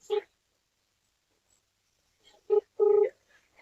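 A telephone is dialed in a quiet room, with three short tonal beeps spaced apart, the last one longer, and silence between them.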